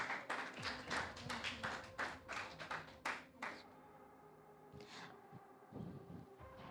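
Scattered clapping from a summit audience, a few distinct hand claps in quick succession that thin out and fade, fairly faint and distant.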